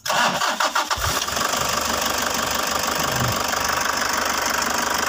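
A Toyota Hiace with a 2KD diesel engine cranks briefly, then fires and settles into a loud, steady, rattly idle close by, with no voices.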